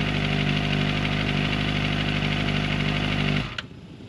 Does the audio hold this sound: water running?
no